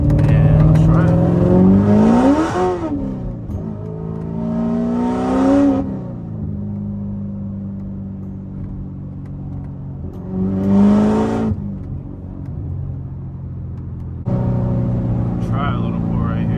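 An 800hp manual Corvette C7 ZR1 on new 18-inch wheels pulls hard, its engine note climbing in loud rising sweeps through the gears, with short pauses between pulls and a steady rumble underneath.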